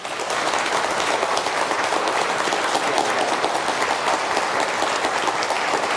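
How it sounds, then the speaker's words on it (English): An audience at a church celebration gives the children a final round of applause, thick sustained clapping from many hands, loud and even from start to finish. "can you give all the kids here one last round of applause?"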